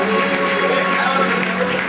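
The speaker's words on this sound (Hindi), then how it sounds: "जोरदार ताली से स्वागत कीजिएगा" During a Jain temple consecration festival's tilak ritual, the congregation claps loudly and steadily, a thick, continuous applause with faint sustained musical tones beneath it.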